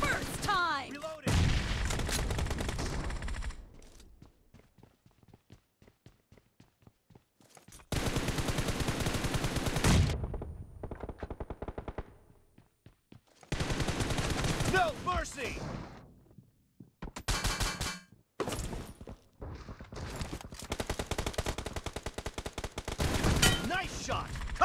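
Bursts of automatic gunfire from a BGMI team deathmatch on the Hangar map, loud and repeated in several long volleys with short gaps, mixed with game effects and voices talking between shots.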